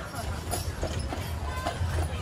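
Trained horses on Mackinac Island clip-clop along the road in a steady, moderately close rhythm of hoofbeats, with a voice talking over them.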